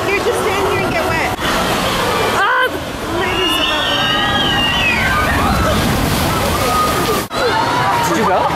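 Heavy water splashing and sloshing in a SeaWorld splash zone, loud and continuous, with a crowd chattering and calling out beneath the rushing spray.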